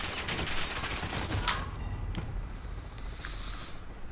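Rapid sustained gunfire from the shooter Blood Money, a dense rattling fusillade with a sharper crack in the middle, steady and fairly loud with no talk over it.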